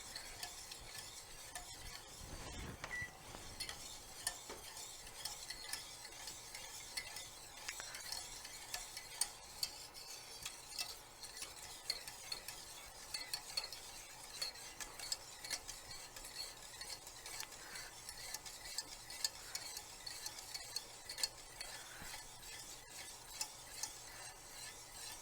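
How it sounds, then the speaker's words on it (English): Butter melts in a pan as a utensil stirs it, a soft sizzle running underneath faint, irregular scrapes and taps against the pan over a long, quiet stretch with no voices. "we're just going to stir that one more minute here until those last little pieces get pretty much melted away or dissolved away"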